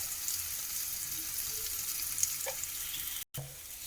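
Onions and tomatoes fry in a pan with turmeric and chili powder added, giving a steady, even sizzle close up, faint and unbroken apart from a tiny pause near the end; no voices.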